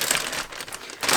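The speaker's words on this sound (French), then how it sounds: "c'est bien de le mettre dans un plastique, parce qu'on va venir tout malaxer pour bien tout répartir la marinade partout" Plastic bag holding chicken and butter chicken marinade crinkles and rustles as it is kneaded by hand, a close, steady crackling texture swelling and easing over about a second with no voices.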